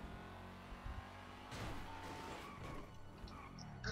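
A car in Grand Theft Auto V Online idles quietly and then revs and drives on a city street, with a soft engine rumble, faint bumps and a brief loud swell at the end.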